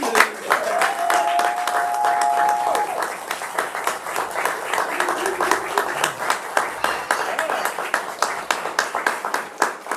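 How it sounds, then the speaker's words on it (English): Audience at a graduation ceremony gives a steady round of clapping that carries on for about ten seconds and thins toward the end, with a voice briefly heard over it. "One more round of applause."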